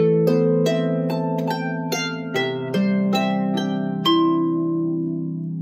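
A Manx harp plays a short melodic phrase from the second part of a tune, plucked notes ringing over sustained lower chords in a steady, moderate rhythm, close and clear with no voices.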